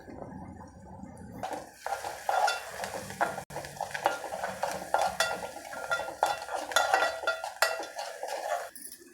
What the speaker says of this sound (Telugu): ఉల్లిపాయలు కొంచెం గోల్డ్ కలర్లో వచ్చేలాగా వేపుకొని కొంచెం పసుపు